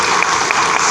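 An audience at an India–Nepal friendship event at the Constitution Club in Delhi claps loudly and steadily to welcome a guest to the stage, dense, continuous applause filling the hall.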